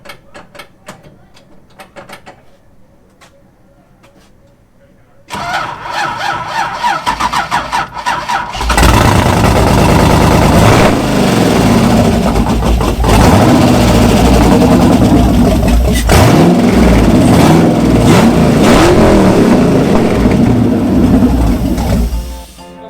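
A Nissan S30 fitted with an LS V8 drift engine cranks, fires and catches after a quiet stretch, then roars into loud sustained revving and rough idle close by, with no talking.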